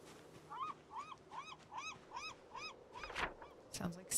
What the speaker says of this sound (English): Sounds like seagulls.